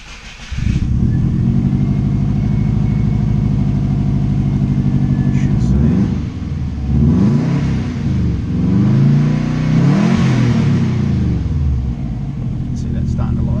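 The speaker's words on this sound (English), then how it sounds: "start the car." A Subaru WRX four-cylinder engine cranks and catches, then settles into a loud, steady idle before two rising revs swell and fall back, close and dominant throughout.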